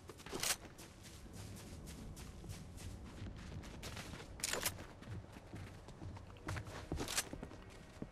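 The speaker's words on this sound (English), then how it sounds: "I hear footsteps on me." Footsteps thud in steady succession in a Fortnite match, with the continuous patter of movement broken by a few sharp, loud cracks that sound like gunfire.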